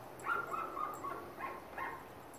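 Several distant barks and yips come from a loose dog out on the street, spaced irregularly and faint against steady outdoor background noise, with no speech.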